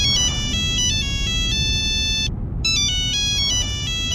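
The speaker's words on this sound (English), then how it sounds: "Sick ringtone." A phone ringtone in a Roblox game plays a loud, bright electronic melody of stepped beeping tones that stops briefly partway through and then repeats over a low rumbling background.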